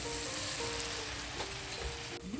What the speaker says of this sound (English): So my sister just put 3 inside, so I'm just gonna let them fry